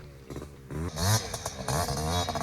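A 1986 Yamaha Tri-Z 250 three-wheeler engine runs close by, a rough two-stroke idle with a gurgling top end and a few short blips of throttle, no voices.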